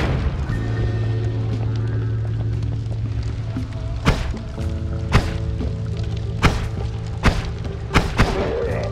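Thrown grenades in the video game Noita go off as a run of sharp, loud thuds and booms, several detonations spaced across the moment over droning game music and ambience.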